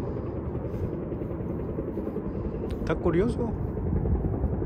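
A helicopter flies over an alpine lake, its low, steady rotor rumble running throughout at a moderate distance while someone speaks briefly in Spanish over it.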